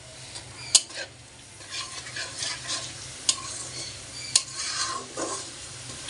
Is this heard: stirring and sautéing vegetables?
yes